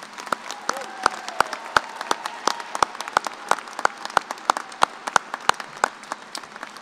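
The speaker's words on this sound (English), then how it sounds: "Please join me in giving a big round of applause to all of our graduates today." Audience applause for graduates at a fall 2022 agriculture college commencement, a crowd of claps in a large venue with sharp individual claps standing out near the microphone over a continuous wash of clapping.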